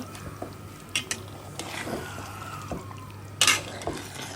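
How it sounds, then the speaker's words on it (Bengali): Goat meat coated in spices is stirred in a pot, a quiet low sizzle under occasional close scrapes and metallic clinks of a spoon, with one sharper clatter near the end. "যত বেশি আমি নাড়াচাড়া করবো গোশতের সাথে মশলাগুলো মাখাবো, তত বেশি গোশতের স্বাদ বাড়বে"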